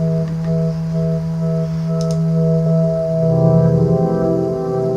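A Yamaha DX7 patch in Dexed on a Raspberry Pi, run through phaser and delay: a steady, loud held synth chord that swirls and thickens partway through as echoed layers build beneath it.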